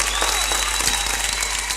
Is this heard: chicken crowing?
no